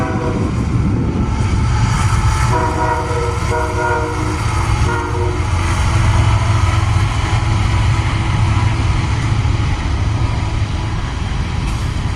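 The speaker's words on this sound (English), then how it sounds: "Down came an eastbound empty coal train with a solo leader." A loud eastbound empty coal train with a single lead locomotive rumbles past close by with a constant roar and clatter of wheels, its horn sounding in several long blasts.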